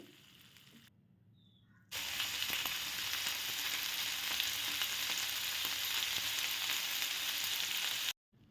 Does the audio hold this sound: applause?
no